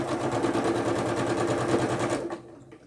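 A sewing machine stitches a small log cabin quilt block in a fast, rhythmic close-up whir that runs steadily for about two seconds and then stops.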